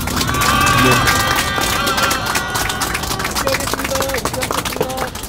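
Audience applause at the opening of a tent campaign office, a dense continuous patter of clapping close by, with a voice speaking over it.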